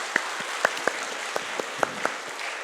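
A church congregation claps together at a Sunday worship service, sharp hand claps standing out from a steady bed of applause, moderately loud and with no talking.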